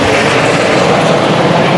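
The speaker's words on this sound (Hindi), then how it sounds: "और ये जो हेलीकॉप्टर है, ये ऊपर ये जा रहे हैं अभी" A helicopter carrying Amarnath pilgrims flies overhead near Pahalgam in Kashmir, its loud, steady rotor and engine roar filling the air without pause or voices.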